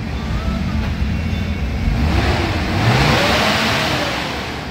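A Mitsubishi Adventure engine revs steadily higher toward 5,000 RPM, building to a loud sustained roar before easing slightly, heard up close with no talking.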